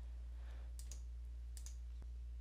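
A few crisp computer mouse clicks sound close and isolated over a steady low electrical hum while a Windows 10 settings menu is navigated, with no talking.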